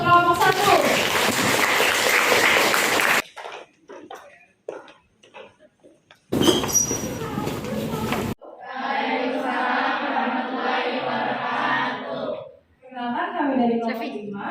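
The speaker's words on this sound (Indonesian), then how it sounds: "Berikan aplaus untuk kelompok 1." Vocational high school students in a classroom break into a short, dense round of applause at the start and again briefly midway, loud and close, between stretches of talking.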